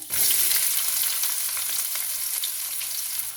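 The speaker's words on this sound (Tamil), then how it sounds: "இந்த வெங்காயம் வதங்கி வரட்டும்" Onions frying in oil with cumin and fenugreek seeds for a brinjal curry give a loud, continuous hissing sizzle with faint stirring scrapes, close and without speech.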